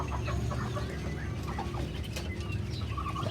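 Ducks kept in a pen on a small backyard farm give scattered, soft quacking calls over a steady low background hum.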